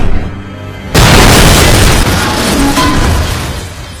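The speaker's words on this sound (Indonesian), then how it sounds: "Lalu tiba-tiba Gina datang dan segera menabrakkan mobilnya, hingga Cole yang berada di dalam mobil beserta anak buahnya jatuh dan meledak." A car crashes and explodes in the 2011 film Unknown, a sudden loud boom bursting out of a quiet moment and then rolling on as a sustained roar.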